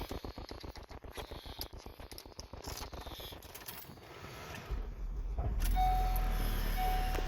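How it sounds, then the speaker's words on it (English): A 2014 Ford Focus is started with a key: a few seconds of rhythmic starter cranking come first, then the engine catches and settles into a steady, low, close idle. "Let's go start up that car and see if it's going to work."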